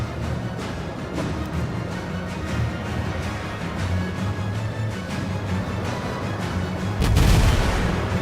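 Big naval guns on warships in World of Warships booming amid continuous battle noise, with a heavier, louder burst of fire near the end.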